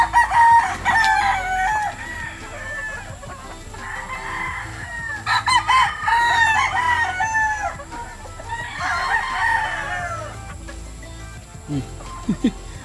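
Chickens at a game farm in Montalban, Rizal, including hens and a rooster, cluck and crow in several loud bursts, with quieter gaps and light talk between calls.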